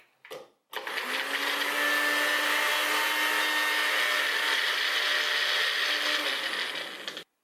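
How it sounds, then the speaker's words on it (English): A Magic Bullet blender runs on two peeled garlic cloves in its tall cup, a steady loud whirring motor for about six seconds that starts and stops abruptly, with no talking. "I want to see how finely and evenly the Magic Bullet will mince the garlic."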